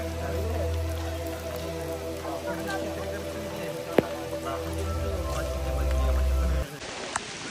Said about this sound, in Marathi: एकदम मोठा पाऊस चालू झालेला आहे